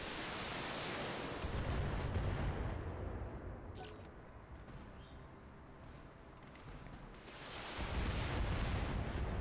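Missile barrage in the Battletech mech video game: loud rumbling explosion blasts that swell, fade into a quieter stretch, then surge again, with no talk.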